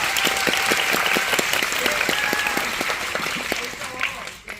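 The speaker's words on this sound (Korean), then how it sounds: "우리 세 분께 박수 한번" A film screening audience claps for three guests, director and actors, in a dense, steady burst of applause that carries on for several seconds before thinning out, with a voice speaking over it.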